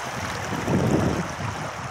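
A small babbling stream flows by a stepping-stone path on a walking trail, giving a steady, close rush of water with no other sounds.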